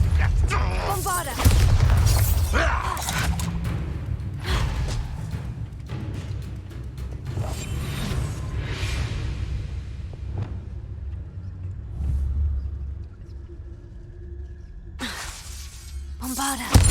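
A Bombarda spell in Hogwarts Legacy goes off with a loud shattering blast and booming crash, followed by several more bursts and rumbling debris over about seventeen seconds, with voices heard amid the combat.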